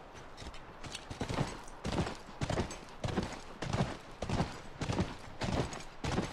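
Horse hooves in a video game clip-clop in a steady, galloping rhythm, loud and close, with no talking.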